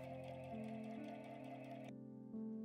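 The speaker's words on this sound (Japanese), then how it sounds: "縫いましたよ、ミシンで。" A sewing machine hums steadily as it stitches fabric for a tote bag, with a sharp change in tone partway through before the motor continues running.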